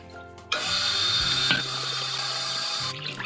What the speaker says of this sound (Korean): 이거를 일단은 처음에는 풀어주고 물을 좀 틀어주려고 합니다